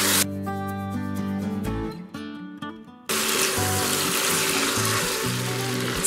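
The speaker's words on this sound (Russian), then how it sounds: "Теперь заливаем водой, чтобы вода покрывала мясо" Water is poured over pork in a pot for plov, starting partway through as a loud, steady rush that holds to the end, with music playing throughout.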